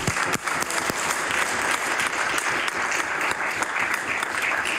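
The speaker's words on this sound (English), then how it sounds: "Will you please give a warm round of applause?" Sustained applause from members filling a legislative assembly chamber during proceedings, a dense, steady wash of many hands clapping without a break.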